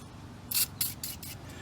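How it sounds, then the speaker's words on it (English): An aerosol can sprays on a suspension end-link nut of a Mercedes GLK X204 front sway bar, giving four short, hissing bursts in quick succession, close and fairly loud. "Let's get a little fun spray on there."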